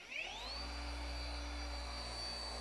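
Rupes HLR15 cordless polisher at work, a steady loud motor whine holding one pitch after a brief rise at the start, running alone without talk.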